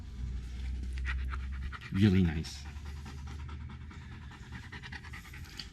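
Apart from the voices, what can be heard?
dog panting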